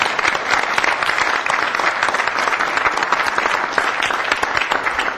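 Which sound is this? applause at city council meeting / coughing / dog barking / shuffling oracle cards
applause at city council meeting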